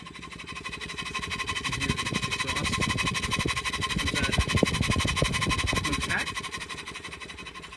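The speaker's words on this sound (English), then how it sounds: "So let's run the steam engine itself. Show you how nice it runs here." A small steam engine on a 1 1/2 inch scale steam tractor chugs steadily at close range with rapid, even mechanical pulses and a faint whirring hum throughout.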